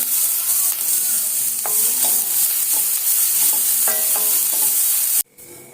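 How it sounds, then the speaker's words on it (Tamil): Grated gooseberries frying in oil in a pan, a loud steady sizzle with occasional scraping clicks of a stirring spoon, cut off abruptly near the end. "இப்ப நெல்லிக்காவை நல்லா வறுத்துக்கணும்"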